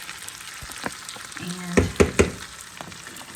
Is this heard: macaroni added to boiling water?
yes